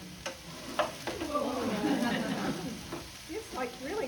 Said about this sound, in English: we're sizzling